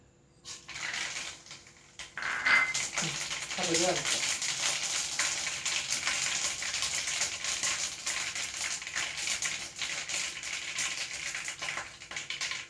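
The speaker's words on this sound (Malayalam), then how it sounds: "വെളിച്ചെണ്ണ മൂത്ത് വന്നിട്ടുണ്ട് അതിലേക്ക് നമുക്ക് ഈ കടുക് അങ്ങോട്ട് ഇട്ട് കൊടുക്കാം" Mustard seeds spluttering and popping in hot coconut oil in a clay pan while making a green gram and banana stem thoran; a dense, steady crackle starts early and runs loud and close throughout.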